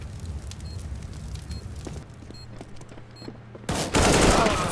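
Gunfire from a first-person shooter video game: a dense stretch of rapid shots up front, a quieter gap, then a loud burst of fire near the end, with no talk over it.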